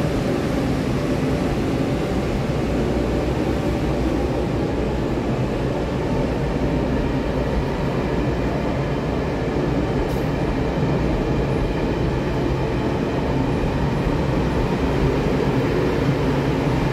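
A Taiwan Tze-Chiang push-pull express, twelve PP coaches between two E1000 electric power cars, departing Hualien, giving a loud, continuous low rumble of rolling wheels and traction that stays steady throughout with no talk.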